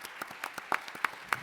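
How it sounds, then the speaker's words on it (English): Brief, sparse applause from a small audience at a panel discussion on sports and tolerance, a handful of separate claps that are fairly faint and irregular. "Let's give another round of applause to KAFU."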